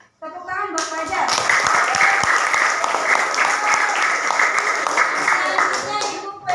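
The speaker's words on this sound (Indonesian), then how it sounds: "Tepuk tangan buat Fajar." Classroom applause from a group of schoolchildren during a primary-school lesson, a dense burst of clapping that starts abruptly and holds steady and loud for several seconds, with faint voices mixed in.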